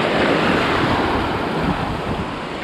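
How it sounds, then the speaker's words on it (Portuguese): Sea waves wash loudly and continuously over coarse sand on a beach, a close, full roar mixed with wind noise on the microphone and no voices. "conforme o mar movimenta aqui, ó lá, ó, ele puxa essa areia grossa pra junto dele"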